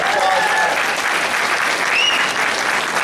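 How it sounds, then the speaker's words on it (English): Audience in a room applauding new team leads, a loud, dense burst of clapping with a few whistles and cheers cutting through, sustained throughout. "All right, let's give them a round of applause."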